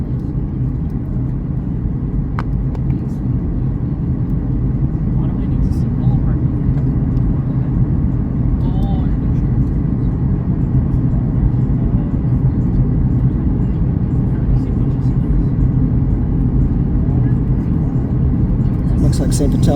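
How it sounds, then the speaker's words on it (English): Steady, loud low engine drone and rumble fill an airliner cabin as it descends to land at Winnipeg's Richardson International Airport in wildfire smoke, continuous throughout, with faint voices underneath. "we're in for a Winnipeg landing, Winnipeg International Airport, James Richardson Airport"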